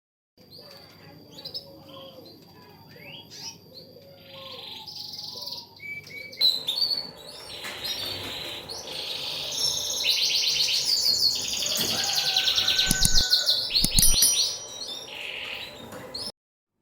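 Canaries in a breeding setup chirp and sing, starting with sparse tweets and building into dense, continuous trilling song, close and fairly loud, with no talking.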